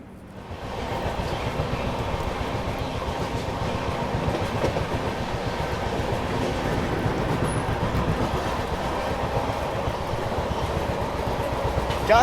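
Inside a first AC coach of a Duronto train from Bangalore to Kolkata, a steady loud rumble of running wheels carries on with faint rhythmic rail clatter throughout.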